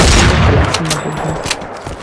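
A couple of sharp, heavy shotgun blasts in the video game Free Fire go off in quick succession over a dense, rumbling background, with a faint voice underneath.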